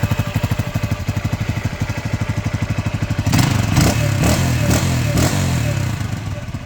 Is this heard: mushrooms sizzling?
no